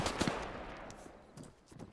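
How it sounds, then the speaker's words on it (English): Gunfire in the military shooter game Arma 3 comes as faint, distant bursts of sharp cracks, a quick flurry at the start and a few scattered shots later, over a low background rumble. "They're just ignoring each other's gunshots."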